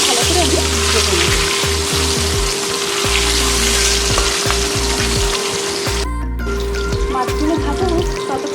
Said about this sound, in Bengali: তেল গরম হয়ে গেছে, দিয়ে দেবো মাছগুলো। মাছগুলো ভালো করে আমি ভেজে নেব।